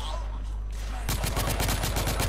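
Rapid gunfire in the video game The Order: 1886, a dense burst of machine-gun shots that starts abruptly about halfway through after a low rumbling lead-in, loud and close.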